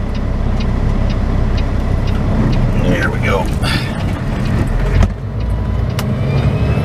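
Road traffic rolls past with a steady engine and tire rumble, heard from close by inside a flatbed truck while someone speaks briefly over the noise.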